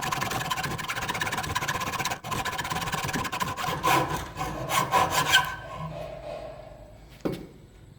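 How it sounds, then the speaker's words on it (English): Handsaw cutting pieces from an old steel file that has been heated and cooled, a steady back-and-forth rasping with a short pause near two seconds, growing sharper toward the end and trailing off, no talk. "I got all the pieces cut out with the handsaw"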